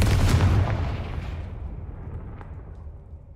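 The Confringo spell explodes in the video game Hogwarts Legacy as one loud, booming blast that rolls out and slowly fades over a few seconds, with no voices over it.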